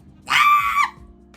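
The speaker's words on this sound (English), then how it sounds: "let me not scream like that" A woman lets out one loud, sharp scream indoors at home, about half a second long, rising abruptly and then cutting off into quiet room sound.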